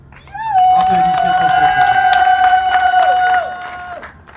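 Guests at a civil wedding clap in a burst of applause, joined by a long, loud sustained high-pitched vocal cry that rings over the clapping for a few seconds before fading.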